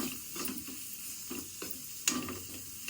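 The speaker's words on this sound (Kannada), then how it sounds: "ಇದು ಸ್ವಲ್ಪ ಫ್ರೈ ಆಗಲಿ." Onion and tomato frying in a pan for crab curry, a continuous close sizzle punctuated by rhythmic scraping stirs of a spatula against the metal, with no talking.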